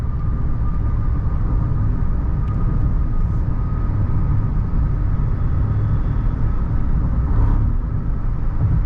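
Maruti Suzuki XL6 automatic car accelerating on a highway, heard from inside the cabin as a steady, continuous low road and engine rumble with a faint tonal hum, no talking.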